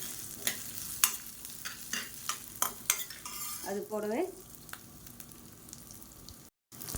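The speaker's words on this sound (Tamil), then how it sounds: "இது கூடவே 4 துண்டு இஞ்சி சேர்த்துக்கலாம். இப்போ எல்லாத்தையுமே நல்லா வறுத்துக்கலாம்." Ginger pieces and fenugreek seeds frying in a pan, a soft sizzle under a run of sharp utensil scrapes and clinks as the spices are stirred, the taps spaced irregularly and close by.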